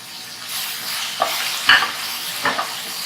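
Green chillies are tossed into a hot pan on high flame for crispy chicken, a soft sizzle with a few sharp utensil scrapes and clinks against the pan, close and alone.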